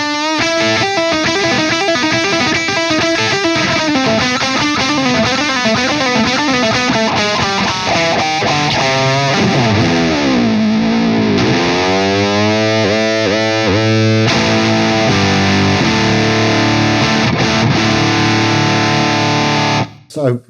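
An electric guitar through a Wampler Gearbox Andy Wood Signature overdrive pedal plays a gritty, sustained riff with bending notes, loud and close, ending abruptly.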